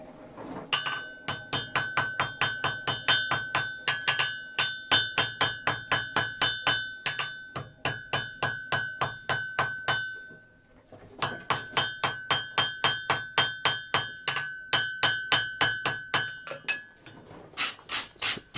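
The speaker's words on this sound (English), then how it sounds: "when Chris is forge welding, you'll notice that he's using a hammer that's about half the weight of the ones we're typically using" A blacksmith forge welding an 18th-century frontier tomahawk strikes hot iron with a lighter hammer, giving rapid, evenly spaced ringing metallic blows in two long bursts separated by a short pause, close and loud.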